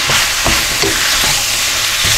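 Cheese steak stir-frying in a wok, a loud close steady sizzle with occasional scraping and tossing knocks, no speech.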